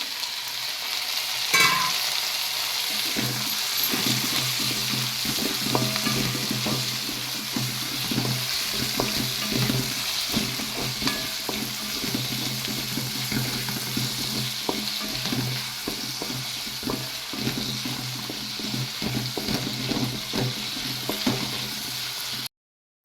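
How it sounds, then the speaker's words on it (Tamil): Four chopped tomatoes sauté in a pan for a Tamil tomato kuzhambu, a steady close sizzle and crackle with soft stirring scrapes running continuously and no voices. "நான் வந்து நாலு தக்காளி அரிஞ்சு வச்சுருக்கேன் இதையும் போட்டு நல்லா வணக்கி விட்டுடலாம்"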